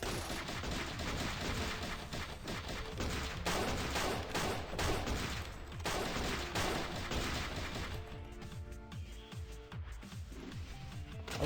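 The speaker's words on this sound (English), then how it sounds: "can you please get away from me, so I can shoot you with my gun?" Continuous bursts of gunfire from a gun in the MADNESS: Project Nexus video game, dense and loud for the whole stretch, shots stacking into a steady fusillade that thins slightly toward the end.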